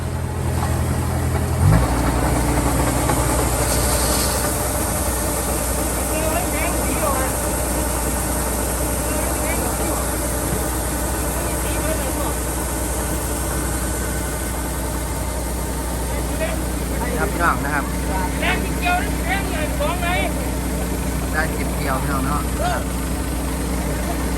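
A steady, loud diesel engine drones throughout, a rumbling farm tractor running near during harvest season, with faint voices and some clatter underneath.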